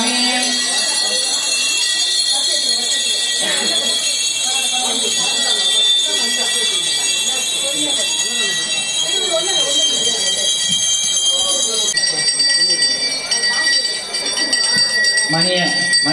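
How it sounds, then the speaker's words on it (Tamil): Hand bell rung steadily through a lamp pooja at the Rajarajeswari Amman temple in Chennai, a continuous bright ringing that runs the whole time under chanted prayers and speech. "அந்த மாதிரி இன்னொரு மணி அடிச்சுக்கோங்க"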